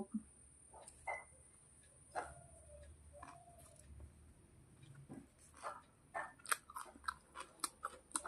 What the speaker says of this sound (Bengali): আমি আজকে রোলটা দিয়ে শুরু করি পরে চাউমিনটা খাচ্ছি